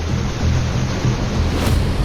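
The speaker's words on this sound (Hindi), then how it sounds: "नदियों का जलस्तर इतना बढ़ गया है कि पानी पुल के ऊपर से बह रहा है।" Floodwater surging after heavy rain, with an overflowing river pouring over a bridge in Kerala, heard as a steady, loud broadband roar and rush of water without pauses or voices.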